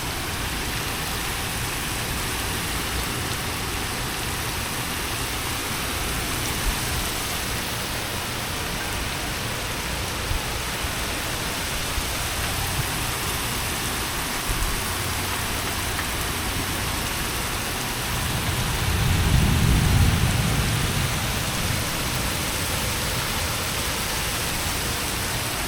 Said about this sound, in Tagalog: Lakas ng ulan guys, oh.